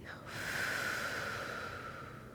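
A single long exhale during a stretching and mobility exercise, close and breathy, swelling and then slowly fading over about two seconds.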